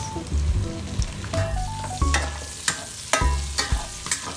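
Onion and garlic sauté in a pan for pancit canton, a sizzle under repeated metallic spatula scrapes and knocks in an uneven stirring rhythm, close and fairly loud.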